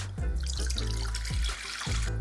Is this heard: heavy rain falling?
no